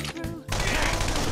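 A burst of gunfire from a gun attack in Persona 5, dense rapid shots erupting suddenly after a moment of game voice and music, loud and sustained for about a second.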